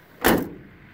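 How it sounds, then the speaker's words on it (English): The driver's door of a 1968 International Harvester truck shuts with a single solid, close slam that rings out briefly and fades. "Driver's door closes beautifully."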